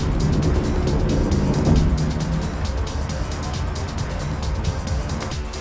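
F-14B jet launched off an aircraft carrier catapult in the DCS flight simulator: a loud, steady broadband engine roar with a brief swell near the start, continuous throughout with no speech.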